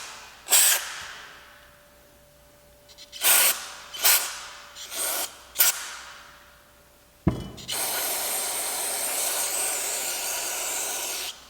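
Aerosol cleaner sprayed into the throttle body of a Nissan 350Z hisses in four short bursts, then a click and a long continuous spray lasting several seconds, close and loud.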